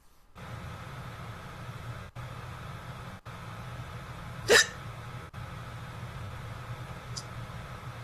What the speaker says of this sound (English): I hiccup and I just get blessed